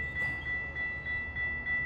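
Commuter train number 105 rolling slowly toward a river bridge under construction, a steady low rumble with a sustained high squeal or tone pulsing through it, moderately distant.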